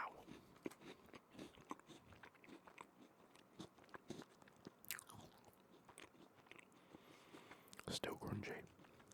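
Crunchy caramel Tim Tam chocolate biscuit being bitten and chewed close to the mic, giving soft irregular crunches and wet chews with a louder crunchy burst near the end, with a quiet voice speaking in between.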